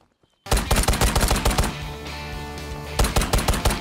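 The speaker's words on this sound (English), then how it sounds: "I shot that guy 6 times in the face!" Rapid bursts of gunfire from a gun in the video game Ghost of Tabor, loud and close, with a fast stream of shots, a brief lull with ringing, then another quick burst.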